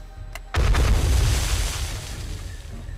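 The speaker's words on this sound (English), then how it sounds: "Nice little explosion." A small explosion in the video game 7 Days to Die bursts suddenly after a brief click, booming loudly and then rumbling as it slowly fades.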